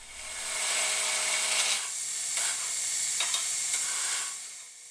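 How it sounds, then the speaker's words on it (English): A metal chop saw cuts an angle through a piece of railroad track, a loud, steady, high abrasive screech with slight pitch shifts, close up and with no talk. "This is the chop saw, the metal chop saw that I was alluding to."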